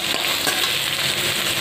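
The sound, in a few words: potatoes frying in a wok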